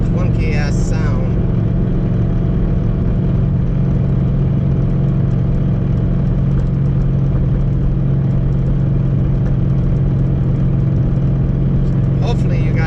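A car engine drones steadily with a deep, rough, clunky mechanical rumble from a faulty Stage 3 transmission in sixth gear, plus a couple of brief higher noises near the start and end.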